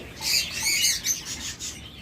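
Cockatiels kept in a bird farm give bright, repeated chirps and whistly calls, fairly close and continuous over a quiet background hiss, with no talking.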